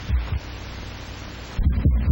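A human heartbeat throbs in a steady low rhythm, a pair of dull thumps at the start and again near the end, with a soft hum filling the gap between them.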